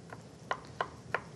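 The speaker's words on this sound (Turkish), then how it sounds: "Küçük küçük doğradık." Knife chopping ingredients into small pieces on a board in a Turkish kitchen while making walnut kadayıf, four sharp, evenly spaced taps, quiet and close, with no talking.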